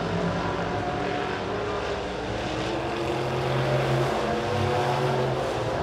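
Midwest Modified race cars lap Springfield Raceway in a heat race, their engines a loud, steady droning roar with a rising and falling pitch as they pass. No voices are heard.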